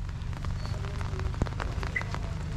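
Steady rain patters on surfaces at a dam on a wet day, a dense continuous hiss of drops with a few sharper taps, close and moderately loud with no voices.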